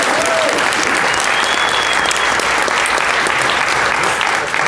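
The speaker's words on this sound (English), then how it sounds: "let's once again give everybody a round of applause for being here" Loud, dense applause from a conference audience fills the room continuously, a thick wall of many hands clapping close by with no break.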